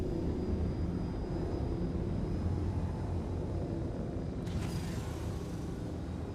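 A jet fighter engine runs without afterburner during a high-G flight video game, a constant dense low roar that holds steady throughout, with no talking over it.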